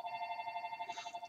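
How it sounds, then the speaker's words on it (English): A telephone rings steadily through a continuous electronic bell tone with a fast warbling pulse, fairly quiet and alone, with a faint bump of noise near the end. "sorry for the phone's ringing"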